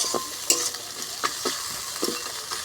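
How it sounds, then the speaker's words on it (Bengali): Fish heads from puti fish frying in a pan, stirred with a utensil, with soft sizzling under four or five sharp scraping strokes at a steady rhythm, close and fairly quiet. "এবার সব কিছুকে আবার ভালো করে মিশিয়ে একটু নেড়ে চেড়ে একটু ভাজা ভাজা করে নেব"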